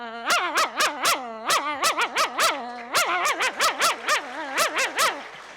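A human voice imitates a dog barking, producing a long series of quick, loud, close yaps in uneven bursts with short pauses between them, all within a few seconds.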